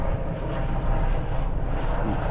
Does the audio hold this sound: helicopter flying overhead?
yes